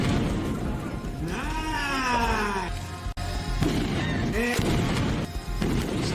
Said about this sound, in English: most of the effects they used were practical, including this big explosion